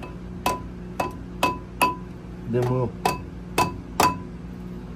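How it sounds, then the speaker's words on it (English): A rubber hammer taps a harmonic balancer onto a Detroit Diesel 6-71 marine engine aboard a 58-foot Hatteras boat, giving a series of sharp, ringing metallic knocks at an uneven pace, close and loud, with a brief spoken word between them. "Where's my rubber hammer? Got your rubber hammer. And then I just tap that on there."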